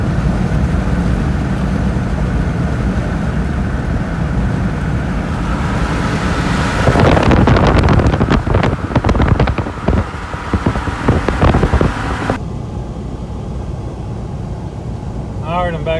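A cheap used Jeep cruises along a highway with a steady roar of engine, tires and wind buffeting the cabin, growing rougher and gustier midway before settling back into a constant drone.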